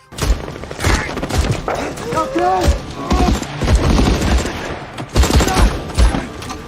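A film battle scene fills with bursts of rapid gunfire and sharp shots, loud and close, while voices shout and talk throughout and horse hooves clop underneath.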